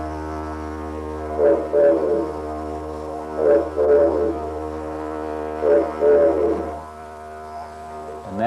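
A droning didgeridoo sustains a steady low tone while three vocalised bursts rise over it, mimicking a bush pigeon's call in evenly spaced pairs, close and moderately loud.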